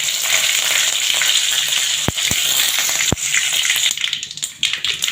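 Cumin seeds and curry leaves frying in hot oil for a palak dal sambar, a loud, continuous close-up sizzle with a few sharp knocks of a spoon against the pan before the crackle thins out.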